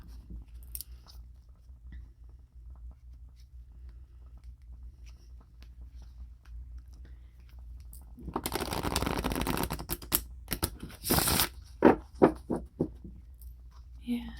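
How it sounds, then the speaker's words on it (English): Tarot cards from a deck are dealt out face up one by one onto a surface, producing soft card slaps and shuffling rustles in a burst after a quiet stretch, close and crisp in an ASMR setting. "So I'm going to deal out 12 cards. One for each month."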